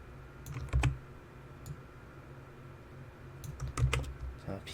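Computer keyboard keys are pressed while working in Autodesk Maya 3D modelling software on a character model: two short clusters of crisp, close clicks separated by a quiet pause.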